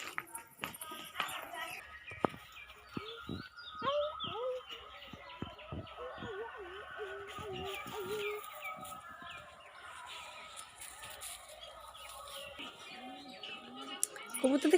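Pigeons coo and flutter close by in a village yard, their soft repeated calls overlapping with people talking nearby.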